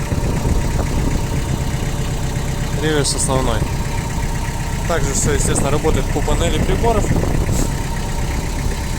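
A Mitsubishi MT305 tractor engine idles with a steady mid-pitched diesel chug and light knocking, close and continuous beneath someone talking throughout.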